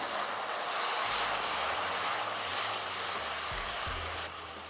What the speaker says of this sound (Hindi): अब ये देखिए प्याज ब्राउन हो गया, इसमें हम डालेंगे ताजे टमाटर की प्यूरी।